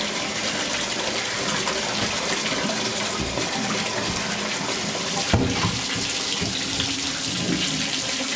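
Water runs steadily from a tap while a piece of amethyst is rinsed for a fish tank, a constant loud gushing with a brief splash or clunk midway.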